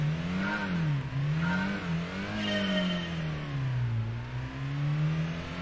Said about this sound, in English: Slow revving.